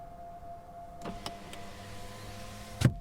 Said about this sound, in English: this car makes some noises when it's in reverse.